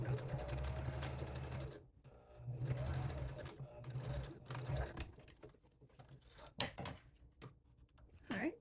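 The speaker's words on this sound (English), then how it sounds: "we can just sew a stitch across here on the sewing machine" A sewing machine runs in two bursts of rapid, steady stitching across a ribbon bag, loud and close, with short pauses between them and some handling clatter near the end.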